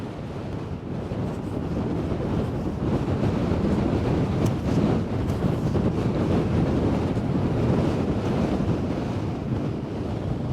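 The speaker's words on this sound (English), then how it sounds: "I hope you can hear me, because the wind's really strong" Strong wind buffets the microphone on the coast at Sker Point near Porthcawl, a steady, loud roar blended with surf that carries on unbroken with no voices.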